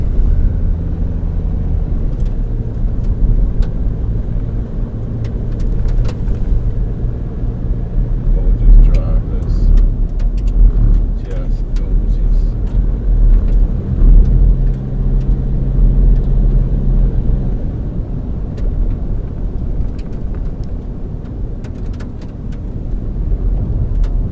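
Mazda BT-50 bakkie rolling along a gravel road, heard from inside the cab as a steady loud low rumble of engine and tyres with brief crunching and rattling bursts throughout, no talking.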